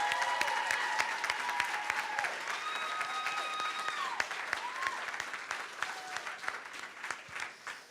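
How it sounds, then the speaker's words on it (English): Wedding guests clap in a round of applause, the individual claps distinct and fairly close, tapering off toward the end. Music plays underneath throughout. "Can we just give my mom one more round of applause?"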